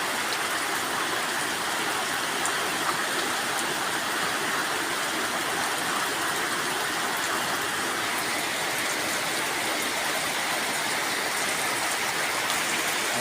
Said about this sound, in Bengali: এই যে বৃষ্টি পড়তেছে